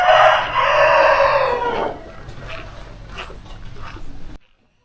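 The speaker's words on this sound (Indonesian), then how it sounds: "suara ayam berkokok yang mengisi keheningan pagi" A rooster crows loudly and nearby in the early-morning quiet near the Kayu Aro tea plantation, one long drawn-out call that fades into softer background clucking and faint rustle.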